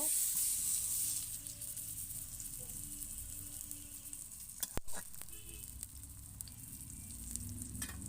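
Fish frying in hot oil in a home kitchen, a low steady sizzle with some sharp spatters and clicks partway through, no voices.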